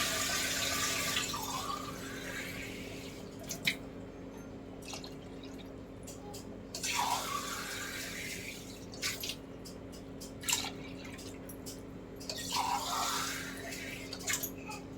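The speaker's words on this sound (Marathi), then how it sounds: "चार ग्लास पाणी घालत आहे मी." Water from a glass is poured into a pot of crab curry in several separate pours, each a gushing splash, with drips and small clinks between them at close range.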